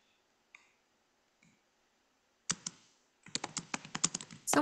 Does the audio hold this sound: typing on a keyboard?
yes